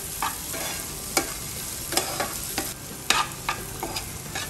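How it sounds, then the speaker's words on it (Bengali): Small shrimp frying in a pan, a close, constant sizzle broken by sharp scraping clicks of a spatula stirring at irregular intervals, no voices. "এখন আমি এটা দেওয়ার পরে আবারও 1 থেকে 2 মিনিট কিংবা 3 মিনিট ভেজে নিব"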